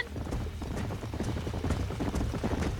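Galloping horse hooves in Red Dead Redemption on Xbox One, a fast, dense clatter held steady throughout amid game ambience.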